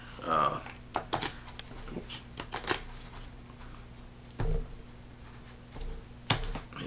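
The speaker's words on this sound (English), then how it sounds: "I'd like to just mix up, and kind of randomize the cards that are in our stack." Cards riffled and mixed in quick bursts of papery flutter and soft slaps, close by, with a steady low hum underneath.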